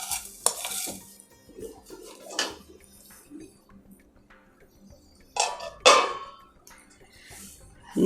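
Semolina stirred in a pan over a low flame during a pesarattu recipe: intermittent scraping and stirring strokes of spoon on metal, a few louder clatters, fairly close, with no talking.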